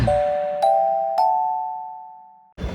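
A bright electronic notification bell chimes three times in quick succession, each ding ringing out with a long sustained tone that slowly fades, followed by a short burst of noise at the end.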